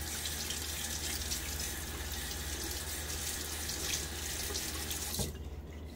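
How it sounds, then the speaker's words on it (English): Tap water runs steadily into a sink while a double-edge safety razor, a Timeless .68, is rinsed under it, a constant close hiss that cuts off sharply near the end. "Let's rinse this off."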